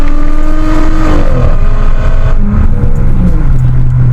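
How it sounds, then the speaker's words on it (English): Loud exhaust from a 2014 Dodge Charger SXT running a muffler delete, revving with steady rising and falling engine tones close by and no talk over it. "He's got a little muffler delete on it, so it makes a good noise."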